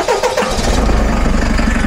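Diesel engine of a DAF LF truck cranking and catching, then settling into a loud, steady, rumbling idle close by.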